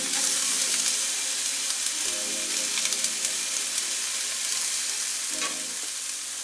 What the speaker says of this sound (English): So anyway, onions are going.